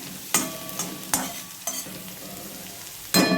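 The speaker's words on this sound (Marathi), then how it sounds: "आणि ही लसणाचे चार पाच पात्या आपण घेतलेल्या ते घ्यायचे जरासं हलवायचं आहे" Garlic cloves being stirred in an oiled pan before okra goes in, a soft frying sizzle under several spatula scrapes and knocks against the pan, close and clear.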